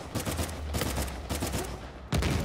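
Desert Eagle pistol fire in the multiplayer shooter Uncharted 4, a few sharp shots in quick succession over game noise, the last one loudest.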